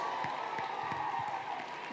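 Audience applause at a red carpet evening of the International Conference on Family Planning, a steady wash of clapping from a crowd that carries on without a break, with faint voices mixed in.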